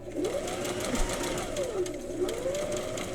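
Close, steady whir of a sewing machine stitching a patch with interfacing, its motor pitch gently rising and dipping as the speed varies, with fast needle ticks running throughout.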